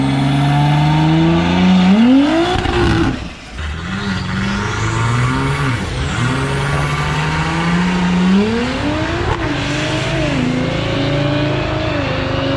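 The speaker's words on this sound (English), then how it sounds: "Utilizing the launch control. SQ5 full slicks." An Audi SQ5 on full slicks launches with launch control, its engine loud and close, revving through rising pulls with a brief drop at a gear change before climbing again and fading away.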